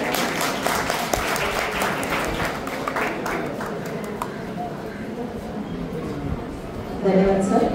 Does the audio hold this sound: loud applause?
yes